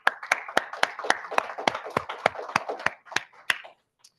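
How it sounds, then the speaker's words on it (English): A few people clapping for speakers at a hacknight gathering: a small, thin round of distinct individual claps in a quick rhythm, moderately close, that fades out and stops just before the end. "Please, a round of applause for our speakers."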